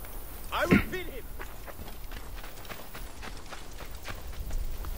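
Horse hooves clip-clopping in the video game Assassin's Creed Origins, a run of rhythmic hoof hits following a sharp vocal shout near the start, with game sounds around it.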